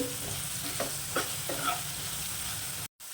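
A spoon stirs potatoes frying in a pan with chilli powder, a soft sizzle running underneath a few scraping strokes of the stir, close up and alone.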